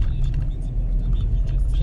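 A car driving along Blicknera street in Wrocław, Poland, a steady low engine and road rumble heard from inside the vehicle, continuous and fairly loud with no talking.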